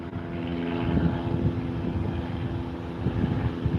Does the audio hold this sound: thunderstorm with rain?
no